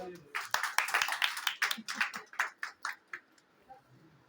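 Hundreds of women at a BJP meeting clap in a quick irregular burst that grows louder and then tapers off over a few seconds, close by, with a voice underneath.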